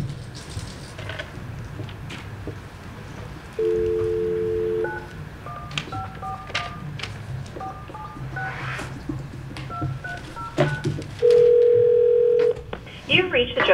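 At a House Committee on Judiciary hearing, a phone call is placed: a steady dial tone sounds, then a series of short touch-tone dialing beeps, followed by ringing tones and a loud tone burst, while people talk in the background.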